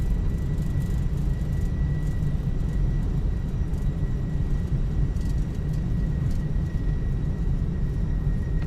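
Thrust reversers roar on an airliner landing in Microsoft Flight Simulator 2024: a loud, steady broadband rush of engine noise that holds without letting up, with a faint thin whine above it.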